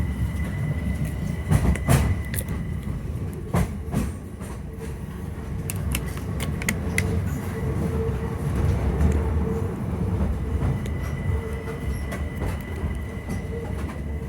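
A Southeastern train rumbles steadily at London Bridge station, with scattered wheel clicks and rail knocks and a faint sustained squeal over the low rolling noise. No one speaks.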